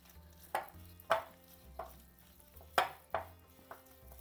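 Gram flour being mixed by hand into a snake gourd stuffing, heard as a quiet, close series of about seven soft thuds and squishy taps against a bowl at an uneven rhythm; no voices.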